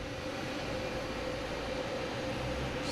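A UPS cargo plane arriving from Louisville at Boston Logan International Airport gives a loud, steady engine roar with a constant whine on top, sustained throughout without talk.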